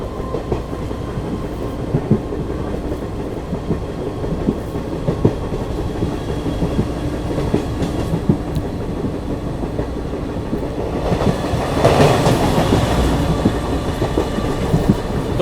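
A passenger train departs Srinagar toward Banihal past snow-lined tracks, with continuous close rumbling and rhythmic clickety-clack of wheels that swells louder partway through.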